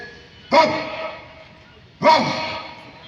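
A voice imitates a dog barking, two sharp bark-like bursts about a second and a half apart, loud and close, with no other talk.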